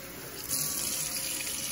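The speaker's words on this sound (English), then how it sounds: "what I'm going to do is just grab some tap water here." Tap water runs steadily from a faucet to refill an AeroGarden hydroponic reservoir, a close, continuous hissing splash that gets a little stronger after the first half second.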